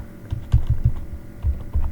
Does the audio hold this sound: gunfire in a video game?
no